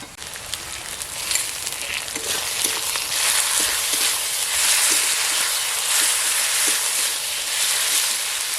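Onions frying with ginger-garlic and green chilli paste in a pan for a village-style country chicken curry, a steady close sizzle with scattered crackles and faint stirring clicks throughout.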